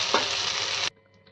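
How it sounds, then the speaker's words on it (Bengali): Cauliflower florets frying in hot oil give a brief, loud, steady sizzle that cuts off abruptly after less than a second, leaving near silence. "কিছুক্ষণ সময় ধরে ফুলকপিগুলোকে খুব ভালোভাবে ফ্রাই করে নিতে হবে।"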